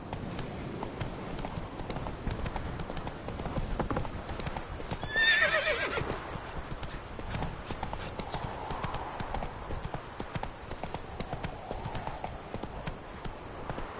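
Horse hooves clip-clop steadily at a gallop in The Witcher 3, with a loud neigh breaking through midway and the hoofbeats continuing close and unbroken throughout.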